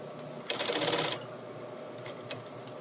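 A sewing machine stitches through fabric in one short, rapid burst of close mechanical chatter lasting under a second, followed by quiet handling sounds.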